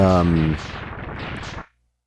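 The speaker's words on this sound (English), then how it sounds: "the explosion didn't save the whole duration, so it just cuts abruptly" Explosion sound effect from a Mega Man X3 prototype video game, a loud crackling rumble that cuts off abruptly after under two seconds.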